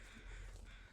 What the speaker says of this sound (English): the crows are gathering, and there they are